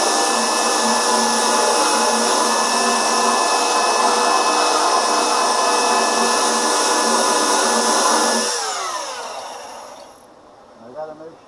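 A power sander works over chipped, previously repaired paint, a loud steady whine running for about eight seconds before it spins down and fades to near silence.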